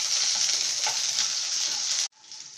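About twenty small onions sizzling hard in oil with popping mustard seeds, a bright, steady close hiss that cuts off abruptly and returns quieter as the pan settles.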